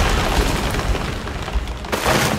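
A bomb detonates in The Witcher 3, a dense, steady rumbling roar with heavy low end that fills the whole short moment, loud and close with no talk over it.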